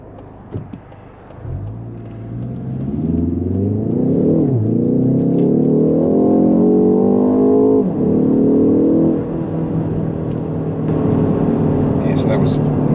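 A 2020 Ford Focus ST automatic accelerating hard to 100, engine note climbing through rising revs with gear changes, loud and steady inside the cabin.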